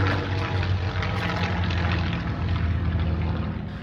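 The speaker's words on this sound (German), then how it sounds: "Aber natürlich die Flugzeuge auch." A propeller aircraft drones steadily overhead at Goodwood Circuit, a loud continuous engine roar with a broad rushing tone and no speech.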